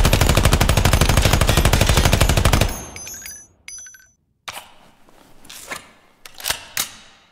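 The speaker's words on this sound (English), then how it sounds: "Mixon has also added updated gunshots sound effects for the M4A1 Block 2." Loud, rapid automatic gunfire from an M4A1 Block 2 in the video game Ground Branch rattles for a few seconds, then stops, followed by mechanical clicks and a couple of single sharp shots.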